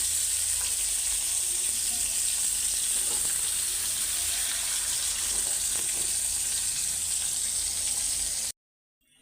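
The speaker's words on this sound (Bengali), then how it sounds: "মাছ ভাজা শেষ, দুইটাই মাছ ভাজছি।" Steady, close sizzling of large snakehead fish frying in hot oil in a pan, a continuous crackling hiss with no voices, cutting off abruptly near the end.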